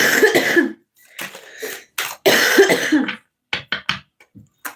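Several harsh coughs in bursts, close and loud, with short pauses between fits and a couple of brief throat-clearing sounds toward the end.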